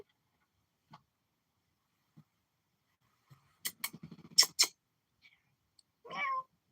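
A cat meows a few times in a quiet room, with a short cluster of soft cries and rustling midway followed by one longer, clearer meow at the end; no talking.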